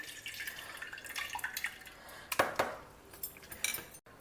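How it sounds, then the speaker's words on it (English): Soaked tamarind is squeezed by hand in a bowl of water to extract thick juice, giving faint wet squelches, drips and light clinks of a utensil against the vessel, close and quiet with no talk. "Now we will just take the thick extract from this soaked tamarind."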